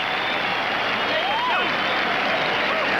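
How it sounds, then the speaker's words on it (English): A boxing arena crowd at a heavyweight bout applauds and cheers steadily after the final bell, a dense continuous roar with a commentator talking over it. "And the crowd is on its feet applauding."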